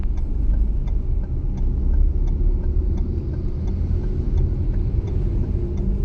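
A car engine idles in low steady rumble and rises gently as a driving learner presses the accelerator, with faint regular ticking over the continuous near engine drone.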